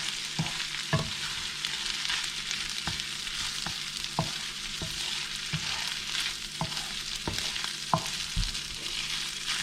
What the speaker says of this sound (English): Stir it together.